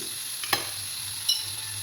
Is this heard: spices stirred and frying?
yes